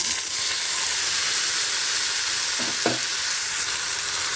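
Washed ridge gourd peels fry loudly in hot oil, a dense, continuous sizzling hiss with a couple of brief stirring scrapes partway through.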